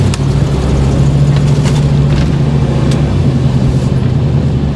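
Chevrolet K5 Blazer truck driving, a steady loud engine drone with a low hum and road rumble from inside the cab, a few faint clicks over it.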